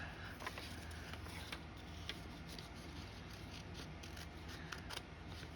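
Scissors snip through thin blue and mauve material for bedding on a 1:200 scale RMS Titanic model, a few soft close cuts over a steady low background hum, with no talking.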